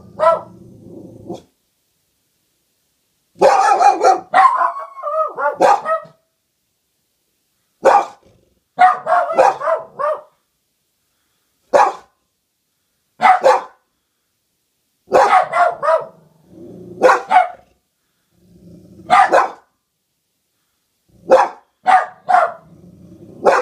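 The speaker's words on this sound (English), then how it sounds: "What are you barking at?" A dog barks and howls in repeated loud, close bursts separated by short silences, some calls drawn out into whining howls.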